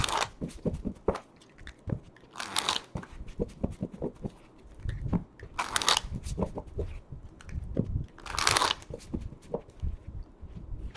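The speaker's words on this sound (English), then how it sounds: "we're going to shuffle this oracle deck" Crisp, riffling shuffles of an oracle card deck in three broad bursts, with taps, slaps and handling clatter between them, close up.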